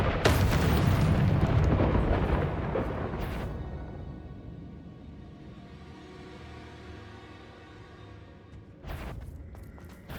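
A Confringo blasting spell explodes in Hogwarts Legacy with a loud, heavy boom that rumbles and slowly fades over several seconds, followed near the end by a short sharp burst.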